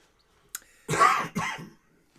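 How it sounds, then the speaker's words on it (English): A brother coughs twice in quick succession after a faint click, each cough harsh and fairly close, followed by quiet. "That's him coughing."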